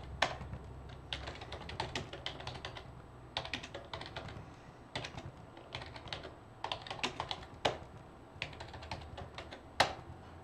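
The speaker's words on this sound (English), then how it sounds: "So I'm just going to start typing some stuff here." Rapid keyboard typing in bursts of clicking keystrokes with brief pauses between, close and fairly quiet, with no talking.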